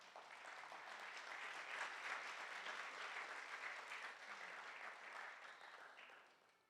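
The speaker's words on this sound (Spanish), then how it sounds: "Dan un aplauso al Señor por eso." A congregation at a Sunday church service in Colombia applauds with steady, dense clapping that swells and then fades away, heard alone without talk.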